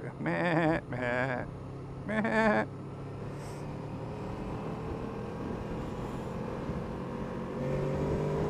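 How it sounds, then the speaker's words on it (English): Sheep bleat on a country road near a moving motorcycle, a 2016 Honda VFR800F: three loud, wavering bleats close by in the first few seconds, then a steady engine and road rumble carrying on alone. "Come on, sheep."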